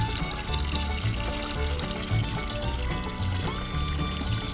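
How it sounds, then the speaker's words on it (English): A garden hose running full bore pours into a newly installed yard catch basin, making a steady, close splashing gush of water with no talk. "I can use the hose full bore and it doesn't even get to the level yet where it needs to drain down this side"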